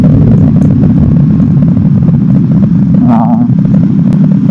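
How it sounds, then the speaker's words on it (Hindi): A KTM motorcycle cruises along a road in sixth gear, its engine drone mixed with heavy, constant wind rush, loud and close throughout. "इस रोड पे भी छठे गियर पे आराम से चल रही है।"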